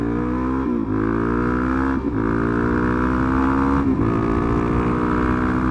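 A car named Derek, warmed up, cruising along the A3 road, a loud steady engine drone with smooth rising pitch between a couple of brief gear changes, heard close from inside.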